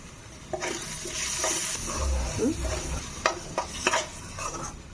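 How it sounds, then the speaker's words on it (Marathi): A spoon stirs a spiced whole masoor lentil curry in a pan. Close, continuous scraping and soft sizzling build into several louder clattering strokes near the end. "असं व्यवस्थित एकत्र करून मिसळून मिसळून घ्यायचं"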